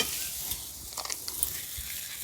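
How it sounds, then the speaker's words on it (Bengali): Spice masala for dhaba-style egg tadka sizzles faintly in a pan and is stirred, giving a soft, steady frying hiss with a few light scraping strokes. "মশলাটা খুব ভালোভাবে কষিয়ে নিয়েছি।"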